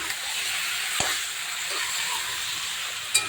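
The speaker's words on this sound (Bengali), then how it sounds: "এটাকে আমি তেলে একটু নাড়াচাড়া দেবো, একটু ভাজা ভাজা হবে দেখুন" Steady hissing sizzle of food frying in oil while stirred before spices go in for a chicken curry, close and continuous, with a couple of brief clicks from stirring.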